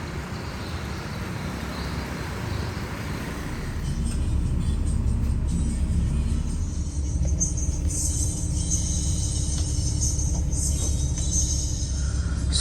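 Interior of a KG Trans bus travelling from Bali to Jakarta: a steady low engine and road rumble that grows slightly louder after a few seconds, with faint rattles and hiss over it.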